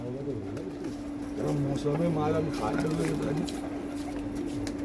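Pigeons on a rooftop coo in soft, throaty repeated rolls, close by and mid-level, while someone talks over them through much of the clip.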